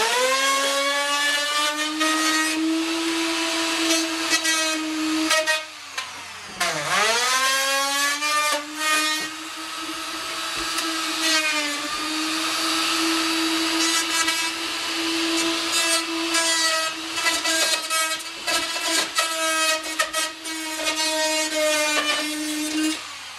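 A router cuts a window opening in thick aluminum siding with a loud, sustained high whine that dips briefly in pitch as the bit loads, then holds steady under strain through the rest of the cut.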